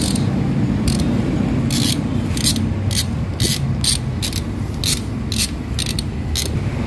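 A hand ratchet clicks in quick bursts while tightening bolts on a Ford Ranger engine during timing chain work. The sharp pawl clicks come in irregular short runs, close up, over a low background hum.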